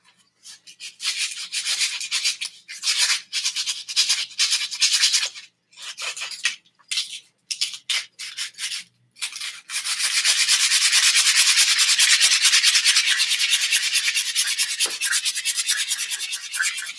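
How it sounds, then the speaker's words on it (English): Fine sandpaper rubbed along a handmade wooden wand, first in short rhythmic strokes with brief pauses, then a long continuous scratchy rasp, close and clear with no talk. "That rougher sandpaper can shape it, but the smoother sandpaper that I have right here"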